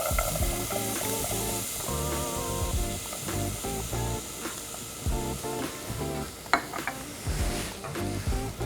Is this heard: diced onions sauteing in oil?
yes